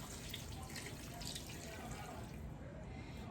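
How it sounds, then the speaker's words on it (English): Vegetable broth poured into a pot makes a quiet, continuous liquid splashing and trickling, heard close and alone for a few seconds. "put my 2 cups of vegetable broth in there"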